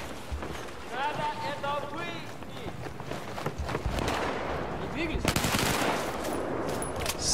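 Battlefield 4 game gunfire: bursts of automatic weapon fire and scattered shots crackle through busy battle noise, with someone talking over parts of it.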